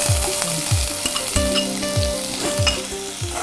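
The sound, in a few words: onions frying in hot oil in pan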